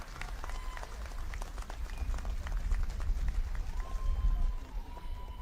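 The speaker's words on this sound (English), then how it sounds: "I request everybody to kindly clap." Crowd applause at a large outdoor political public meeting in Shillong, Meghalaya, a dense continuous clapping roar that swells slightly, with a faint voice or tone rising briefly near the end.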